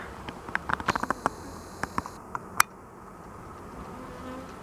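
A low hum of a honeybee colony during a hive inspection, punctuated by sharp clicks and taps from handling the frames.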